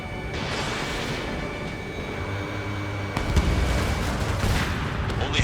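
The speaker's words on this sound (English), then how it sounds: "Strider 3 launching missile" A missile launches in Ace Combat 7, a loud sustained roaring rush over steady jet and battle noise, with a sharper burst partway through.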